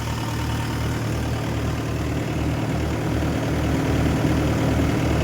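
A Mahindra tractor engine idles steadily nearby, a low, even chugging rumble with a regular pulse and no talking.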